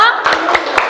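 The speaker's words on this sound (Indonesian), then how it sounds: "Oke, tepuk tangan untuk kita." A group claps hands together in quick, scattered bursts over a room full of chatter and voices, close and fairly loud for about a second.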